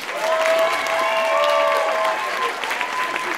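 A theatre audience of about 250 people gives steady, dense applause for performer Idrissa Amin after his first time on stage at a live show. Close, continuous clapping fills the room, with faint crowd voices mixed in.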